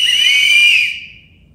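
A loud, shrill whistle blast, several whistles blown together at a protest, cutting off abruptly and fading out.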